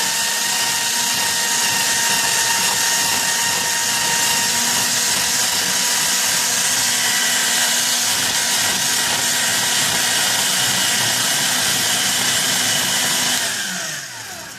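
An electric coconut shredder grates a coconut with a steady, loud, high motor whine and scraping that holds for most of the time, then winds down at the end.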